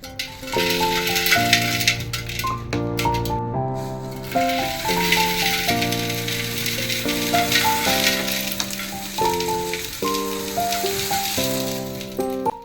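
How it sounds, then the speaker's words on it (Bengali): Stone chips pour into a clay pot for a homemade water filter, a continuous gritty rattle with brief pauses, heard beneath steady melodic background music. "তো আমি এই স্টোন চিপসগুলোকে এই হাঁড়িতে ভরে দিচ্ছি"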